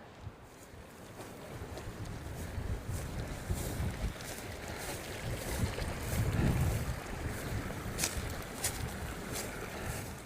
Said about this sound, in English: That wind is just ripping right through this little hill